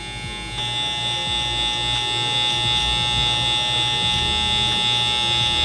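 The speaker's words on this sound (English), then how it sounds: "I love these clippers too because you can actually hear them cut" Electric hair clippers buzz steadily and loudly up close while cutting hair for a burst fade, a constant electric hum with a bright whine and faint crackle of hair being cut, and no talking.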